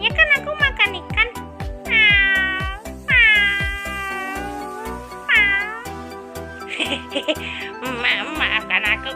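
A cartoon cat meows several times in a row in an animated children's Sunday school story, the high wavering cries rising over steady background music with voiced narration nearby.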